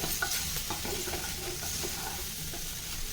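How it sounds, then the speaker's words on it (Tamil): Ivy gourd sautés in oil, tossed by shaking the pan rather than with a ladle, giving a soft continuous sizzle with light, repeated tossing rustles. "நான் கரண்டி போட்டு கலக்காமல் இது மாதிரி கலந்து விடுறேன் இது இன்னும் கொஞ்சம் வதங்கட்டும்"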